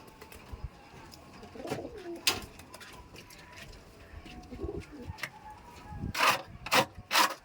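Pigeons coo softly now and then inside a coop, with a few sharp knocks and rustles nearby.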